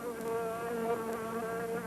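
A loud, sustained insect buzz used as an effect in a 1950s–60s science-fiction horror trailer, a steady droning whine with wavering harmonics that holds unbroken for about two seconds, with no voices.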